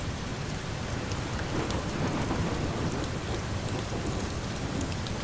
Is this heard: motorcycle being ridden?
no